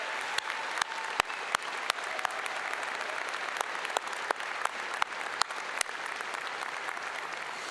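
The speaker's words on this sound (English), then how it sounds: "One more round of applause for the class of 2025." A commencement crowd applauds the College of Veterinary Medicine class of 2025, steady dense clapping across a large hall with crisp louder claps popping out close by, sustained without talk.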